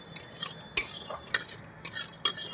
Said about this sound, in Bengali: ঘিয়ের মধ্যে আমি দিয়ে দিচ্ছি গোটা গরম মশলা এলাচ দারচিনি আর লবঙ্গ ভালো করে ভেজে নেব